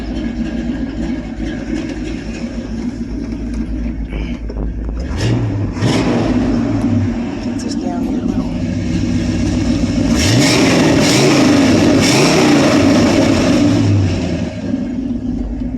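A 1969 GMC shop truck engine runs loudly and steadily close by, its rumble swelling into several revs around the middle and end before settling back to a rough idle.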